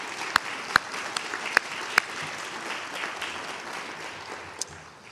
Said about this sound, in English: Let's give those wins another round of applause